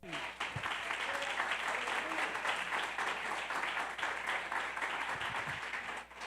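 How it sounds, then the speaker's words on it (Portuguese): Congregation applauding during a Sunday church service, steady continuous clapping from many people with faint voices mixed beneath. "Aplauda o Rei."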